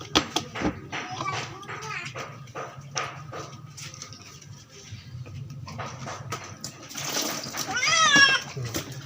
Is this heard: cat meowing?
yes